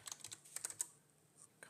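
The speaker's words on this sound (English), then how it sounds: "My one finger typing skills are limited." Someone types with one finger on a computer keyboard: a quick burst of light, close key clicks, a pause, then a couple more taps at the end, quiet and without talk.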